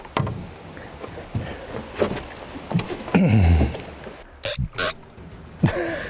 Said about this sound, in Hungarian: Böfög és nyikorog közben.